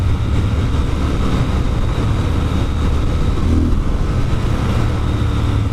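Triumph Scrambler 1200 XE motorcycle engine pulling hard during a wheelie, a loud, steady, close-up roar with rumbling low end, wind noise and no talking.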